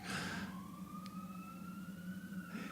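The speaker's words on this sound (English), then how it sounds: "Got that ambulance standing in one spot," Ambulance siren held in one spot, a steady wailing tone that slides slowly upward, heard at moderate distance over a low rumbling background, with no talk.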